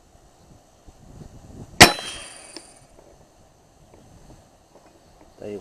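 A single sharp shot from a 9 mm PCP air rifle cracks out with a quick metallic ring, against a quiet background with faint wind.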